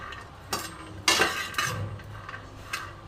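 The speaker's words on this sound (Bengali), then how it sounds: "তেল ছাড়াই আমি বাদামটাকে নেড়ে নিচ্ছি ভালো করে" Peanuts are dry-roasted in a kadai without oil, making scattered scraping and clinking strokes of the stirring spoon against the pan, fairly quiet and close with short gaps between them.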